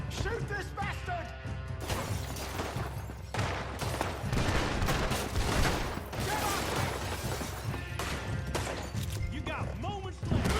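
Repeated gunfire in Red Dead Redemption 2, a fast fusillade of sharp cracks and crashing impacts mixed with shouting voices and game sounds, loud and dense throughout.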